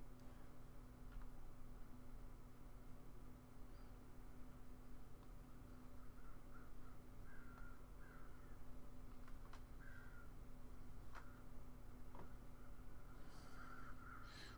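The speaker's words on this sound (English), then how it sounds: "I hear crows." Crows caw intermittently in the wintry wilderness of the survival game The Long Dark, faint, distant calls scattered over a low steady hum of ambient wind.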